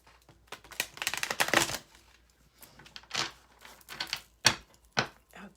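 A stack of playing cards being handled and shuffled indoors, with bursts of riffling and soft flicking that come in uneven clusters, close and fairly quiet, with no voices.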